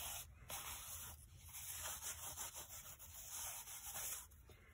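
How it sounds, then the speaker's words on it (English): Ink being rubbed into paper with a stencil brush to make a card background, a steady close scratchy brushing that runs continuously with small surges and no talk. "And just kind of rubbing this in."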